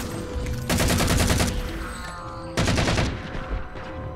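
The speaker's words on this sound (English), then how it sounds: "Getting shot at." Sustained bursts of automatic gunfire from a Halo 4 firefight, two dense loud volleys separated by a quieter stretch with distant shots and tones.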